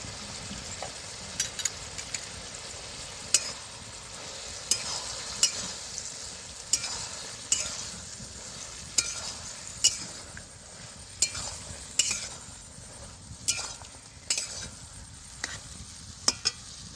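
Ridge gourd fries in a pan with poppy seed and cumin paste, a soft sizzle running under regular spoon scrapes and light taps against the pan, spaced about a second apart.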